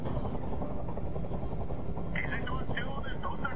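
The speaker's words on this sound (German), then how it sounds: "Ich halte diesen Krach nicht mehr aus. Dieser Helikopter soll verschwinden." A helicopter in the video game Detroit: Become Human gives a steady, droning rotor and engine noise that runs throughout, with a voice talking over it.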